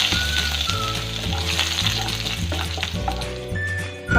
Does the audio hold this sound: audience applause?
no